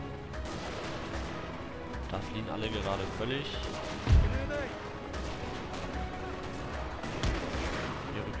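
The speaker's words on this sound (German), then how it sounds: "Kanonen bitte feuerfrei auf die Infanterie hier." Cannon fire on infantry in the Napoleon: Total War video game, with heavy booming blasts around the middle and near the end over a dense battle din, while someone talks throughout.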